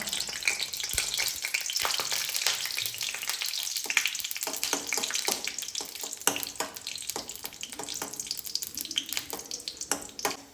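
Cashew nuts fry in hot coconut oil for a Kerala-style chicken stew, a continuous bubbling sizzle close up with frequent sharp crackles and spatters throughout, no talking.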